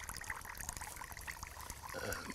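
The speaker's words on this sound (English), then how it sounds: "the underground water is running off as a spring" Underground water trickles out of a small spigot at a soil health demonstration, a faint, steady dribble heard close up with no other sounds.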